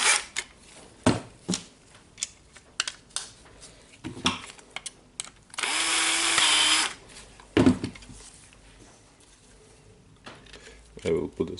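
A power screwdriver whirs for about a second driving screws into the housing of a Makita DDF343 14.4V Li-ion drill, surrounded by close clicks and handling taps of plastic parts.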